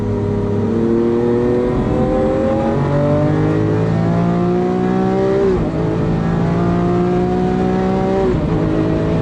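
A car pulls away and accelerates hard, its loud engine note climbing steadily through the gears with brief dips at each shift, continuous and close, with no talking.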